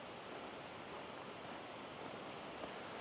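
A creek runs near a campground in Collegiate Peaks, Buena Vista, Colorado, giving off a steady, broadband rushing of water at constant level throughout, with no voices over it.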